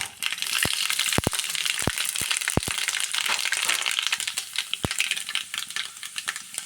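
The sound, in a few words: mustard and fenugreek seeds frying in coconut oil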